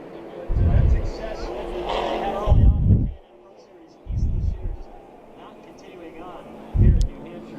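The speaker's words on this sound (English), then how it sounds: "So it looks like he hit the wall and then spun off." A race car at the Granite State 100 hitting the wall and spinning off, heard as several loud engine surges with tire noise, one after another, under steady commentary.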